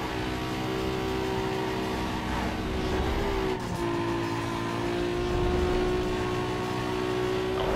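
Fast racing cars in Need for Speed Underground 2 drone with a sustained high-revving engine note that shifts pitch slightly midway, accompanied by road and tire noise and heard alone.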